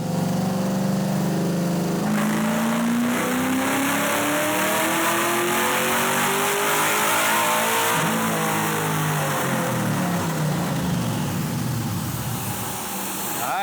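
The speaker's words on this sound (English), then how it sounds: "right now Mike is gonna do another run, and right at the upper RPM limit, he's just gonna shut the key off because we can't have it idle at all" A tuned Cobra engine revs hard toward its upper RPM limit, a loud, sustained roar with the pitch climbing and falling as it is held near redline.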